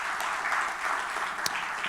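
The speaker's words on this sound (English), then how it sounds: "Let's acknowledge him. Round of applause." Audience applause at a post-budget economic forum, a steady wash of clapping at moderate level throughout with one sharper clap standing out near the end.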